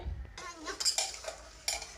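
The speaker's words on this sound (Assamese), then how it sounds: "এতিয়া আলুখিনি অকণমান লৰাই লৰাই ভাজিছে" Potatoes being stirred and fried with cooked meat in a pot: a utensil scrapes and clinks against the metal in quick, close strokes with faint sizzling.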